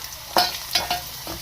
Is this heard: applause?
no